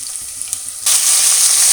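Chopped vegetables for a veg pulao drop into hot oil in a pan, and after a quiet moment a loud, bright, hissing sizzle bursts up suddenly and carries on steadily to the end.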